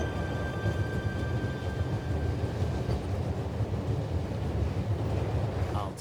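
A moving train in The Raven: Remastered gives a continuous low rumble with rolling clatter and some wind-like noise, steady and fairly close, with no talk.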